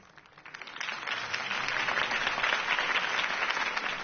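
Video game crowd applause from Batman: The Telltale Series swells up from quiet to a steady, loud round of clapping from a sizable crowd that continues to the end.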